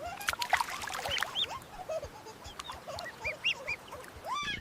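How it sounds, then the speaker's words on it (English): High chirping peeps from yellow ducklings, many short rising calls overlapping in a busy, moderately close chorus. "Yellow ducklings."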